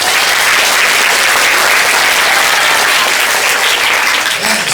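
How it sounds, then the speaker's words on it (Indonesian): Sustained audience applause from school students at an Islamic junior high school event in Bekasi, a dense, loud wash of clapping that fills the whole stretch without pause. "Tepuk tangan untuk Asuada."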